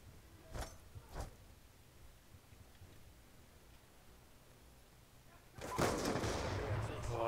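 Gunfire in the video game Black Ops 2: two short, sharp shots early on, then a louder burst of rapid firing near the end over a quiet background hiss.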